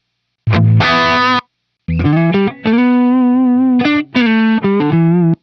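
An electric guitar played through a WCR Crossroads humbucker pickup with heavy distortion rings out as a short opening chord, then a longer sustained riff of held, overdriven notes, loud and alone with no talking.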